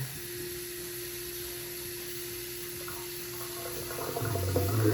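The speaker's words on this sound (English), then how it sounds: "now we got the water overflowing into the hole" Water from a newly updated bathroom faucet spills steadily into the sink's overflow hole, a constant soft running hiss with a low hum, growing slightly louder toward the end.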